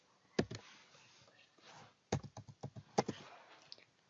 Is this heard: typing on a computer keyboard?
yes